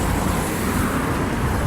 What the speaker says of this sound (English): you're never going to be able to hear me past all the cars